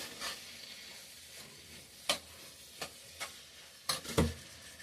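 Masala frying in a pan for village-style mutton sambar, a soft steady sizzle under irregular scraping stirs and a few louder clinks of a spoon against the pan, fairly quiet and without talking.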